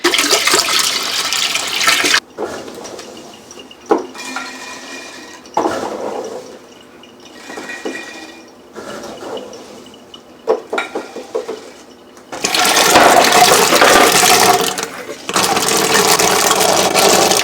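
Water and whole cranberries pour into a large pot on the stove for homemade cranberry juice, splashing and rushing loudly in bursts with quieter clinking and handling between pours, ending in a long, steady heavy pour.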